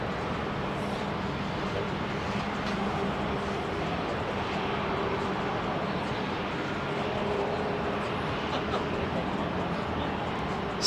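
Qantas QF2 jet at Heathrow spooling up, a broad steady roar with a faint whining tone that stays fairly constant, heard from a distance without talk.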